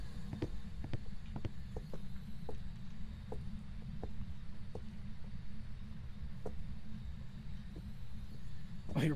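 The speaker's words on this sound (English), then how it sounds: "I'm hearing steps too." Footsteps in the video game Phasmophobia tap at an even, unhurried pace, faint and slightly distant, over a constant low hum with no talking.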